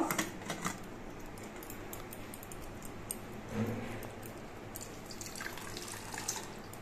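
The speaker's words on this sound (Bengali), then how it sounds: "এবার ছানার থেকে সব জলটা চেপে বের করে নেব।" Washed chhena, fresh cheese curds, is squeezed inside a clean cotton cloth in a kitchen, letting water trickle and drip out faintly and steadily, with a few sharper splashes early on.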